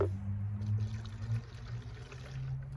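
Vinegar poured into a container of baking soda for a home science experiment, a steady close liquid pour with a low trickling hum lasting the whole moment, no voices.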